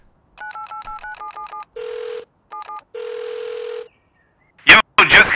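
Telephone dialing tones from an in-game phone in the video game Rust: a rapid series of short beeps, then longer ringback tones in two bursts, followed by a brief loud noise and voices.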